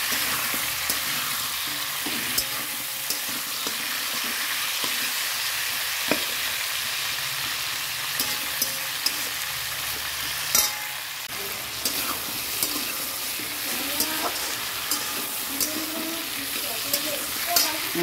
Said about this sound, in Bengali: এর মধ্যে কিছু পেঁয়াজ দেবো, সেটা পেঁয়াজ দিয়ে দেবো।